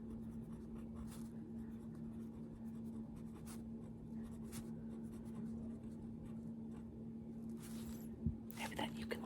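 A mechanical pencil writes on paper in soft, close scratchy strokes and short swirls, with a low steady hum underneath and faint whispered talk in places.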